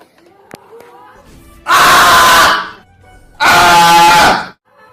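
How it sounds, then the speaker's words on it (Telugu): A woman screams loudly twice, each long shriek lasting about a second, separated by a short pause, with faint voices and noise beforehand. "ఎవరో ఆంటీ అరుస్తున్నారు"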